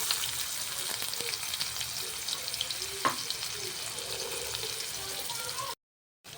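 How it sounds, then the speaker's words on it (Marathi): Onion hits hot oil with cumin in a kadhai and fries with a steady, fairly quiet sizzle. One brief clink sounds partway through before the sound cuts out near the end. "आपण त्यामध्ये आता कांदा घालून घेऊयात"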